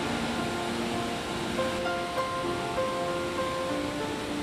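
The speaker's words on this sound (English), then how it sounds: "Some 53 kilometers before the town of Jasper is Sunwapta Falls." Sunwapta Falls near Jasper in the Canadian Rockies, swollen with silty spring runoff, roaring as a steady, dense broadband rush that holds nearly constant throughout, with no voices.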